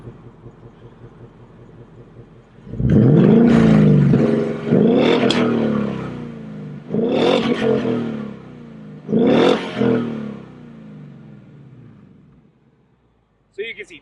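A 2016 Ford Mustang GT with a V8 and an aftermarket exhaust revs up loudly four times in close succession. Between the blips it settles back to a rumbling idle, then drops to near silence.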